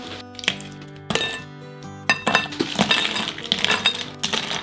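Ice cubes clink and rattle in a container while a live butter crab is chilled before steaming: sharp, close glassy clinks arrive in several bursts, busier and denser toward the end.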